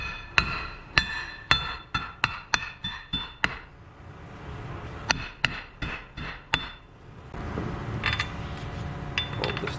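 Dowel pins are hammered into a front U-joint on a John Deere 8320 tractor with a series of sharp, ringing metallic strikes in quick rhythmic bursts, then a few more blows over a rising background rumble.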